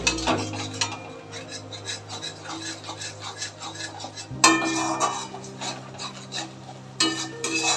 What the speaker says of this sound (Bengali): এরপর গ্যাসের ফ্লেমটা বাড়িয়ে আমি এটাকে ভালোভাবে নাড়তে থাকবো।